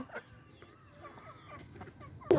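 Hens clucking in a backyard poultry yard: a few short, soft clucks and murmurs close by, ending in a brief louder burst of noise.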